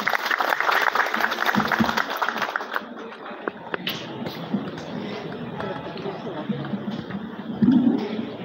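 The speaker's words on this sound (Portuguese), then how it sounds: "Uma grande aplauso." Audience applause at a university anniversary ceremony, a broad wash of many hands clapping that is loud at first, then thins and carries on more softly with some background voices.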